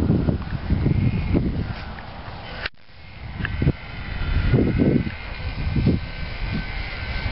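A small HobbyZone Champ RC airplane buzzes at half throttle, its thin electric motor whine drifting faintly over breezy outdoor rustle, with a brief dropout midway.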